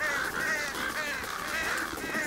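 Crows caw in a video game, a steady chorus of harsh, overlapping calls that stays loud and close throughout with no talking.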